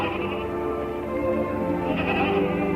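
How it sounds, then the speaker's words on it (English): Goats on a farm bleat repeatedly in a wavering, overlapping chorus, moderately near and continuous for a few seconds with no talk. "Well, Jeff, I thought you were out minding the goats"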